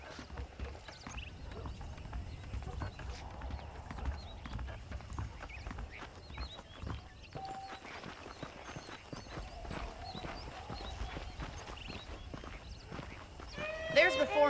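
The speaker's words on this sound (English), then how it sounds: "The horses are saddled up over here." Horse hooves clip-clop steadily through a Red Dead Redemption game scene, a continuous walking rhythm beneath background ambience and spoken dialogue.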